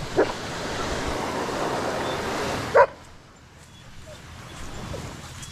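Two dogs bark and yip on a beach at Casiguran, Aurora, with a sharp bark near the start and a louder burst near three seconds over steady surf that quiets afterward.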